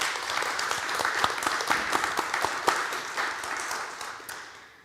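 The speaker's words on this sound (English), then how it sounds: "Please give both of our panelists a round of applause." Clapping from an audience at a legal panel discussion greets two panelists: a dense round of applause with distinct sharp claps standing out, holding steady then tapering slightly near the end.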